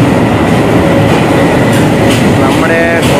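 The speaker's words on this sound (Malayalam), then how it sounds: "അപ്പോൾ നമ്മുടെ ട്രെയിൻ ഇതാ വരുന്നുണ്ട്, മധുരൈ പുനലൂർ എക്സ്പ്രസ്." The Madurai–Punalur Express pulling into a station, a loud continuous rumble of rolling rail cars with a faint squeal near the end, heard close by.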